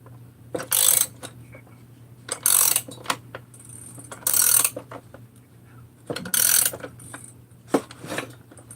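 A tool is cranked down on a Husqvarna 288 chainsaw crankcase, making four loud bursts of close mechanical ratcheting separated by quieter clicks and handling noises, with a steady low hum underneath.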